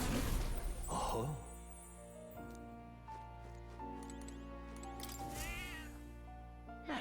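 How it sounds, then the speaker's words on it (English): A cat in the video game Metaphor: ReFantazio gives a couple of short meows, fairly close, set against a sustained game music backdrop. "That's a good kitty."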